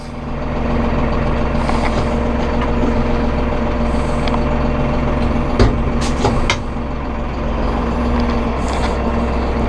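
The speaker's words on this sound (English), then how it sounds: "We'll fire this bad boy up. We'll just back up a little bit, get that parking brake off." A Massey Ferguson 4700 Global Series tractor with a loader starts and backs up, its diesel engine droning steadily and loud up close, with a few brief clunks and squeaks partway through.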